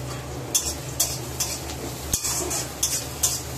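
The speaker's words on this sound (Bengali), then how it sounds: "সব একসাথে ভালো করে ভাজা করে নেব।" Cumin, chopped green chili, ginger and curry leaves fry in a pan while a utensil stirs them, giving a steady close sizzle broken by regular scraping strokes about every half second and one sharp knock.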